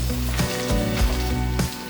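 Mustard seeds crackle and sizzle loudly in hot oil as dried red chillies go in, a dense close frying hiss broken by a few sharp stirring clunks against the pan.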